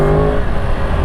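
A 2012 Yamaha Crossplane R1 motorcycle engine drones steadily while riding, a dense loud hum with rushing wind and no pauses over the whole second.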